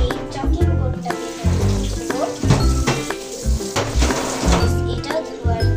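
A chopping board is washed under running tap water in a home kitchen, a steady splashing stream punctuated by knocks and clatter of the board and dishes, close and fairly loud.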